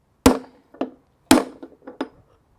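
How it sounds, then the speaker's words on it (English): A hammer strikes a chisel against the outer race of a washing machine drum bearing on a Samsung machine, two hard metallic blows each followed by a few lighter taps, close and distinct. "hit on the outer bit of the bearing, not on the inner bit"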